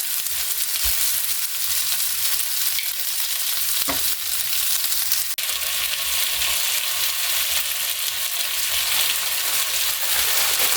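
Chicken fajitas sizzle steadily on a griddle, a loud continuous frying hiss with a brief scrape or clink partway through, no voices.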